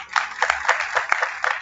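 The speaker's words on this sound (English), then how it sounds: "request everyone to give our chief guest a huge round of applause" Short bursts of clapping from a group, repeated in quick waves, fairly close and moderately loud.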